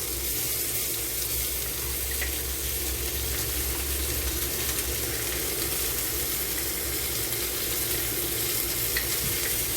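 Teti greens frying in a hot pan, a close, continuous bright sizzling hiss that stays even and loud throughout, with faint crackles and no talk over it.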